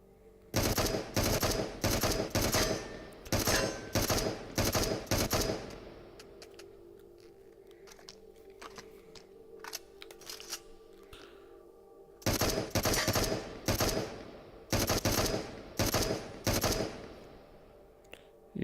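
Loud automatic rifle fire from a weapon in the VR game Into the Radius, rattling out in several sustained bursts with a long quieter gap in the middle, close and punchy.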